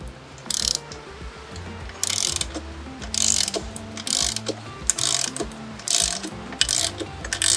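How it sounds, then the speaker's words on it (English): Ratchet with a 19mm socket loosening the axle nut on a Yamaha TT250 motorcycle: repeated bursts of close, loud rapid clicking, each lasting about half a second, separated by short pauses. "Now we're going to take the 19mm socket to remove the axle nut."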